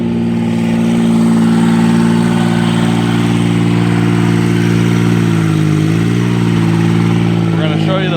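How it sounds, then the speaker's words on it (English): A Kubota gasoline pony motor on a forestry bucket truck running loud and steady with a constant idling drone, dipping briefly in pitch near the end. "this one is a gasoline motor with the Kubota pony motor on there"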